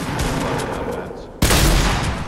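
Gunfire in Fortnite, a sustained burst of shots that swells into a loud, dense volley halfway through, close and harsh with faint game noise underneath.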